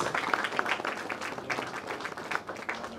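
An audience applauds at a celebration of a singer's 40-year music career, a dense patter of clapping that stays moderately loud and slightly distant throughout.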